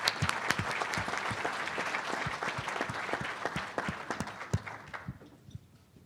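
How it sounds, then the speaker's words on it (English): An audience at an annual meeting gives a round of applause for a treasurer, a moderately sized room of crisp, distinct hand claps that thins out and trails off near the end. "Give him a round of applause."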